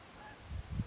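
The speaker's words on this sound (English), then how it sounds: "I hear geese." Geese honk from high overhead, a few faint, distant calls in quick succession at an outdoor duck camp.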